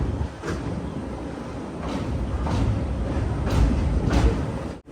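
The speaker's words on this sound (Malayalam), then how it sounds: "കേരളത്തിലെ നിലവിലെ ഏറ്റവും വലിയ റെയിൽവേ സ്റ്റേഷനായ ഷൊർണൂർ ജംഗ്ഷനിലേക്ക് നമ്മുടെ ട്രെയിൻ ഇത് എത്തിക്കൊണ്ടിരിക്കുകയാണ്" Garib Rath Express running toward Shoranur Junction in Kerala, a steady close rumble of wheels on rails with periodic rhythmic clatter from the carriages, continuous and fairly loud throughout.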